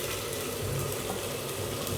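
Fried potatoes hit a pot of cooking dal, producing a steady, close sizzle with soft stirring textures throughout a short burst.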